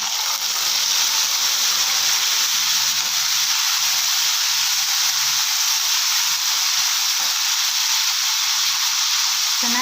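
Soaked chana dal in hot oil for a tempering gives a steady, even hiss and crackle that holds at close range throughout.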